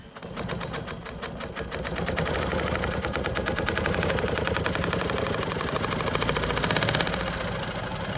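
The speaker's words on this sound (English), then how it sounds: "I'm just gonna go ahead and start quilting." A sewing machine quilting fabric panels for a custom bag runs in a fast, steady mechanical rattle of needle strokes, close and continuous throughout with no talking.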